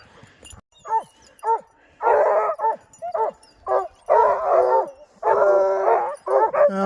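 Several dogs bark, yip and whine in short bursts at close range, some calls drawn out into howls, with brief pauses between outbursts.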